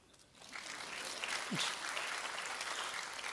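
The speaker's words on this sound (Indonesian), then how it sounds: "Tepuk tangan." A church congregation at a Jakarta worship service breaks into applause after a sermon, the clapping rising from quiet to a steady, moderately faint wash that carries on to the end.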